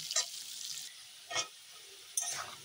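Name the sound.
potatoes frying in a pan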